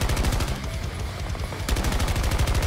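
A 200-round light machine gun in Battlefield 2042 fires in sustained rapid bursts, loud and close, with a brief lull before the rattling resumes.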